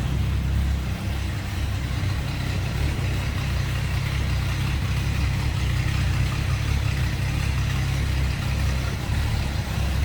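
A 1968 Ford Mustang coupe engine idles steadily with a low, even rumble, continuous and unchanging from start to finish.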